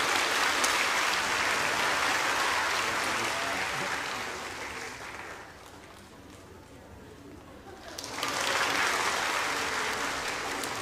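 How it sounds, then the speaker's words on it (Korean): A church congregation claps at a Sunday worship service to bless a child and family, a broad wash of applause that fades into a quieter lull, then swells back up loud. "박수로 축복합니다."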